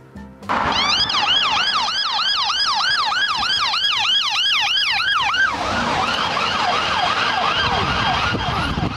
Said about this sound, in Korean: 사이렌 소리가 멀리 있을 때는 낮았다가 가까이 오면 올수록 점점 높아졌어.